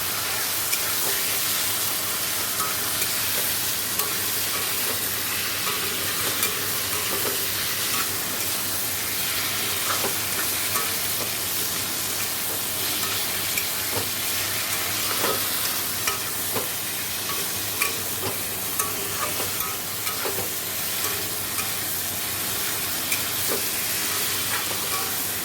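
Ground cumin, coriander and Kashmiri chilli powder frying in a pan, a dense, steady hiss and sizzle lasting throughout, with faint spatula scrapes now and then. Close and fairly loud, with no talking.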